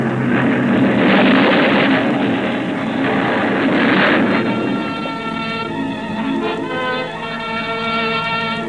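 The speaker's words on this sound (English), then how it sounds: "The force of the explosion hurled me into the blood-warm waters." A radio drama explosion effect set at sea near a reef in fog: a loud, sustained rumbling roar that swells early and then settles into a steady, churning wash of noise.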